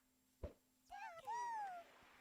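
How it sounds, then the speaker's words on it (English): Loud, drawn-out cat meows, a couple of rising-and-falling cries close by after a short thump, with a steady low hum in the background. "Cat is screaming for some reason."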